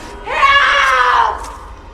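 A woman lets out a single loud, sustained scream lasting about a second, rising sharply and then trailing off, heard alone against a quiet background.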